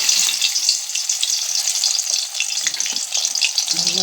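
Fish frying in mustard oil in a pan, a loud, dense, continuous crackling sizzle with small spattering pops, close and steady throughout.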